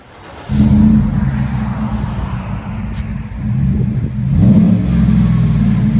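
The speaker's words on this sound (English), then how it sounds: "here is what the 14-inch Magnaflow will sound like" Car exhaust through a 14-inch Magnaflow muffler, part number 12198: a deep, steady engine rumble that starts abruptly, holds loud through revs, dips briefly, then swells again on a second rev, with no talking.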